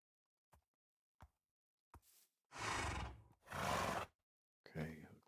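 A horse in the Minecraft video game neighs in two loud, breathy bursts after a few short clicks, followed by a brief vocal sound near the end.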